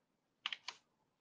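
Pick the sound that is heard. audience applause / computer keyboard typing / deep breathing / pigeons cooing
computer keyboard typing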